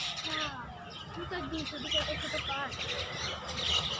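Birds chirping and twittering steadily over a busy outdoor background, with people talking nearby.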